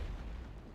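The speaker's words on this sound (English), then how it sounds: "My catapults are now firing" Catapults firing in a siege battle of The Third Age Total War, Isengard against Rohan at Edoras: a steady low rumbling boom of distant artillery under general battle din, with no clearly separated impacts.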